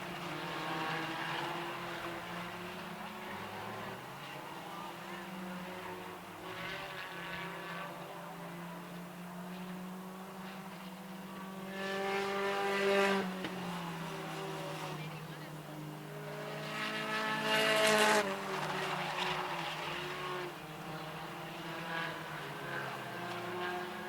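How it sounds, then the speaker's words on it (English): Four-cylinder race cars in a ladies class run laps on a track at the 2024 Fall Fury, with a steady engine drone that swells as cars pass around the middle and near the end, under faint talk. "Two laps to go now on the number 14 of Destiny Overlock."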